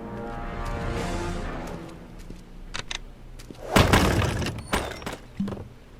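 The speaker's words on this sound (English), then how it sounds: "And another bottle falls off every time the switch flips back." A bottle falls and shatters in Back to the Future: The Game on PS4, a loud glassy crash with scattered debris following a quieter stretch of game ambience and clunks.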